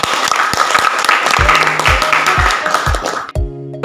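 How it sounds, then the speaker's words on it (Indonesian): Audience applause in a classroom session of a Christian religious education course, a steady wash of clapping that is loud and continuous, with a few brief tones near the end. "Oke, beri aplaus dulu."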